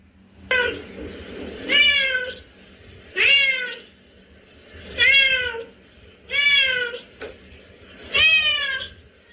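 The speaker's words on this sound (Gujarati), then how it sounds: "તો બિલાડી." A cat meows six times in an even rhythm, each call loud, close and drawn out, with short quiet gaps between them and no other sound.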